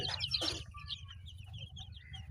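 Soft, busy chirping and peeping of Bahama chicken chicks over a steady low rumble, with a brief burst of louder noise near the start.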